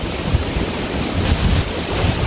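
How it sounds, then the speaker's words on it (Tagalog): Strong wind roars loudly and continuously into the microphone, a dense buffeting rush with no pauses. "kita nyo naman guys yung hangin natin. Sobrang lakas."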